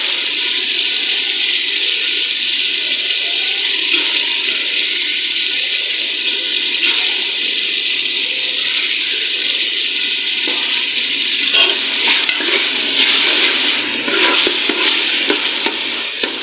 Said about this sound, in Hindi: अब मैं शामिल करने लगी इसके अंदर दाल।